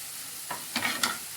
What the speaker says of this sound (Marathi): आता चांगल्या प्रकारे आपण ती फ्राय करून घ्यायची आहे.